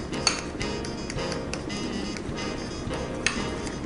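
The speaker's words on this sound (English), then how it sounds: "I'm just stirring that up there in our whipping cream" A spoon stirring peas and carrots in whipping cream inside a pot, with continuous soft scraping and two sharp metallic clinks against the rim, close and fairly quiet without speech.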